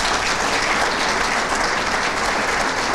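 A round of applause from an audience at a small-business award event in Hamilton, dense and steady clapping that holds at full strength for the whole stretch.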